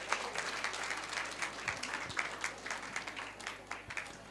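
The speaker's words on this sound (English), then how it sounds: "A big round of applause for this wonderful performance." Faint audience applause follows a devotional stage performance at a children's festival, a soft, steady patter of many hands with a few louder individual claps, over a low background hum.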